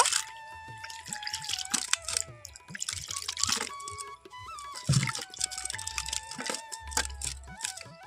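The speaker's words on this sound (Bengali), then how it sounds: "আমগুলোকে প্রথমেই কিন্তু জলে পরিষ্কার করে ধুয়ে নেব" Ripe mangoes are rinsed by hand in water in a kitchen: splashes, drips and small knocks of fruit against a bowl come in irregular bursts, close and moderately loud, without talking.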